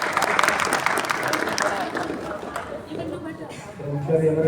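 An indoor audience at an Arya Samaj Republic Day program claps in a dense burst that fades after a couple of seconds, and a voice then starts speaking.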